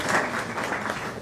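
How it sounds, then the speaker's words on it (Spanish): Audience applause at a journalism conference talk welcoming a guest speaker, a dense wash of many hands clapping at moderate loudness throughout, fairly close and steady with no voices standing out. "Un aplauso, por favor."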